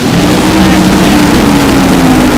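A funny car drag racer sits at pre-stage with its engine idling hard, a loud, coarse, steady rumble at very close range.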